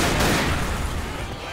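Gunfire in the Left 4 Dead video game, a dense loud burst of rapid shots filling the whole moment with no pause.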